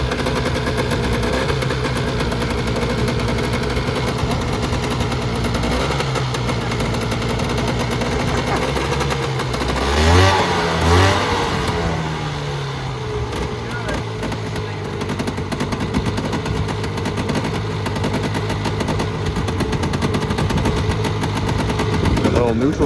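A Polaris Trail Boss 350 ATV, left abandoned for fifteen years, runs after starting. Its engine makes a loud, steady, rapid popping idle throughout, with a brief louder burst midway and people talking faintly underneath.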